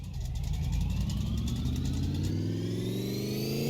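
Car engine running on a chassis dynamometer, a loud steady drone that climbs in pitch as the revs rise, with no talk.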